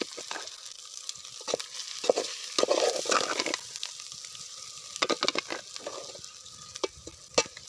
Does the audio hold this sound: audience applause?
no